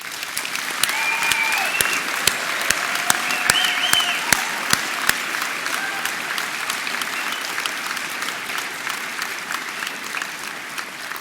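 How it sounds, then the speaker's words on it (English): A large university graduation audience gives sustained, dense applause, a steady wash of many hands with some sharper nearby claps, and a few faint whoops or voices mixed in. "you all deserve a round of applause"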